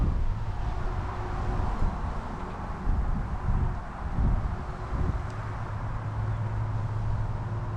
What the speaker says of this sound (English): I love how the wind's blowing through this courtyard and these trees.